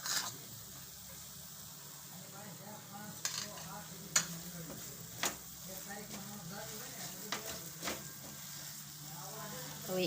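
Thick mava and coconut sweet mixture with ghee is stirred in a pan over a low, steady sizzle, with scattered scraping strokes and occasional taps of the spoon against the metal.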